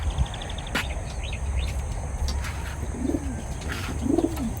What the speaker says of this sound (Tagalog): Ito nga yung aking mga kalapati.